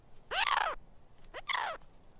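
Two harsh, descending gull calls ring out in succession, moderately distant, over faint background noise, in the Atacama Desert.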